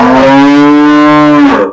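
A large heifer calf lets out a single loud, close moo, held evenly for under two seconds before fading, with no other sound around it.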